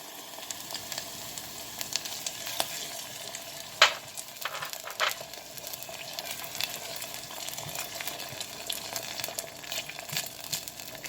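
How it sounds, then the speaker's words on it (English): Tomato sauce hits beans cooking in a pot for Puerto Rican style habichuelas guisadas, raising a steady loud sizzle and hiss with one sharp crackling pop early on, and no voices. "Now I am going to put in my tomato sauce."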